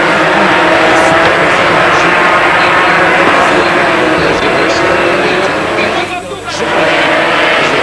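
Racing motorcycles at the 1987 Spanish Grand Prix at Jerez, a loud continuous engine roar from the track beneath a commentator speaking throughout, with a brief dip near the end.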